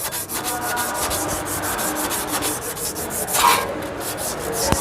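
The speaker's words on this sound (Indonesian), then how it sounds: "kalau kampasnya sudah diamplas, kita tinggal amplas bagian disnya ya" Sandpaper worked across a car's brake disc produces a close, loud, continuous rasping scrape in quick back-and-forth strokes, with no talking.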